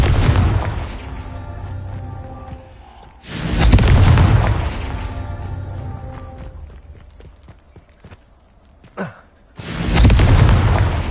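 Confringo spell explosions in the video game Hogwarts Legacy on PlayStation 5, with several loud booming blasts in sequence, each followed by a rumbling decay and a short crackle between them.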